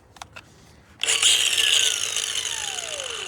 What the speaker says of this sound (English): got my grinder.